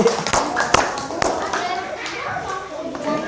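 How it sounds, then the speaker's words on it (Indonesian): Children in a classroom give scattered clapping for a classmate, a few sharp claps near the start amid chatter and kids' voices throughout. "Tepuk tangan untuk Alfi."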